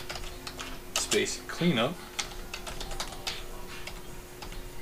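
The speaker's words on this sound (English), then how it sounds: "So just type in DISM space / online" Keys clatter on a computer keyboard as a DISM command is entered in a Windows administrator terminal, light irregular taps running throughout under a man's speech.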